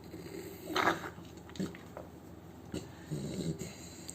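An American Bully dog makes odd whimpering, growling noises in short bursts, close by, with quiet gaps between them.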